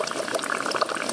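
Gas bubbles up from a hole in the ground in Owosso at a gas leak site, a brief, continuous watery gurgle and fizz heard close up.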